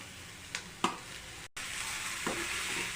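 Finely grated carrot being stirred in a hot pan over a medium flame, with a few scraping stirs of a spoon over a steady, soft sizzle of frying.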